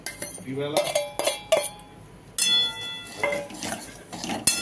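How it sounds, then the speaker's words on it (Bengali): A metal spatula scrapes and clinks against a dry wok while semolina is roasted and stirred, giving repeated close scraping strokes and sharp metallic taps in irregular bursts. "আমি সুজিটাকে ভেজে নিচ্ছি শুকনো কড়াইতে।"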